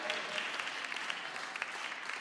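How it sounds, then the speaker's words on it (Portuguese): A worship congregation applauds the Lord in a Portuguese-language church service, a fairly soft but continuous crowd clapping with scattered sharper claps standing out, running the whole way through. "Se você crê, aplauda ao Senhor."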